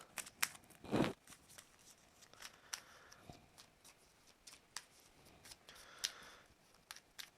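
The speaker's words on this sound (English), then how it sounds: "while I'm shuffling and talking about this" Cards being shuffled for the Arkham Horror board game, a string of faint quick riffles and taps with soft rustling in between, close and quiet.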